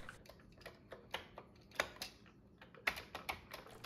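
Irregular clicks and clacks of keys being typed on a Commodore 64 keyboard, close and fairly quiet, with uneven rhythm and a few louder keystrokes, no talk.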